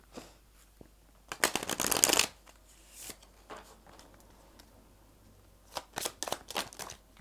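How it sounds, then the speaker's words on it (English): Tarot advice cards riffled and shuffled close up in a loud burst, followed by quieter taps, slides and flicks as single cards are drawn and laid down, with no talking. "I'll just pull you a couple of advice cards there"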